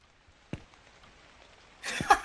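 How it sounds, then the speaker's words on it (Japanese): Rain pours down in the horror game Night Shift Incident, set at a convenience store at night, as a steady hiss that swells up loud near the end after a quieter stretch with a sharp knock-like thud. "雨降ってるから、雨降ってるからね"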